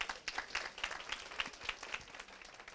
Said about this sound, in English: Can we give Elisa a round of applause, please?